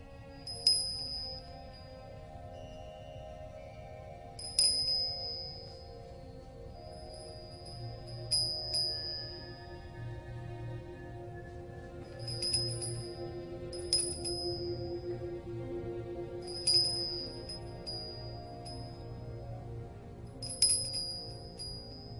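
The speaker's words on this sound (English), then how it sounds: "I ring this bell 7 times." A small bell gives a series of bright, clear metallic dings, about seven strikes spaced unevenly over a quiet low hum with no talking.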